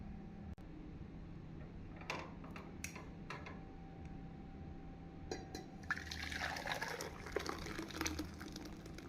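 Lemon juice poured into a pot of boiling lemon rasam with the stove just switched off, giving a soft liquid trickle and splashing that swells near the end, along with scattered clinks and small drips.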